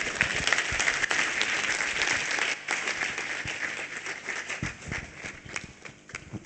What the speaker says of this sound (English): I'm sure we can give him a much bigger round of applause